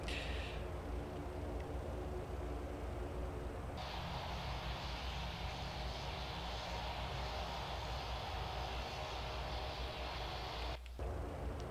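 An ATR72-600 taxiing in the Prepar3D flight simulator gives off a constant loud turboprop engine drone and broadband roar for the whole stretch, with a brief shift in tone partway through and no speech.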